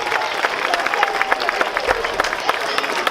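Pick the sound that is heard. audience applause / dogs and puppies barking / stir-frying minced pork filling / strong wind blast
audience applause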